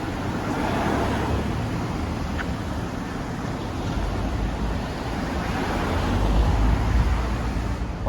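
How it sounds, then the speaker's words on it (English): Dense street traffic roars near Robinson Road at the top of the Mid-Levels escalator in Hong Kong, a steady loud rumble that swells near the end as a heavy bus rolls past, with no voices. "it's very loud around here, especially when the buses roll by"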